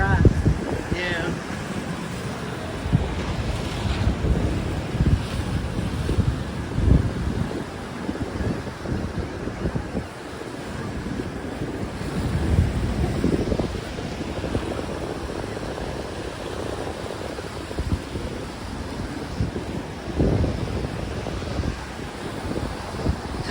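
Ocean waves wash over a rocky beach as the tide comes in, a steady rushing surge blown about by wind noise on the microphone, while people talk nearby.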